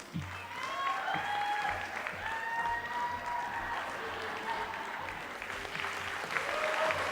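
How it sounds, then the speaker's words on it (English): A crowd at a senior prom grand march keeps up continuous applause for about seven seconds, with scattered whoops and shouts rising over the clapping. "How about one more round of applause for the class of 2022."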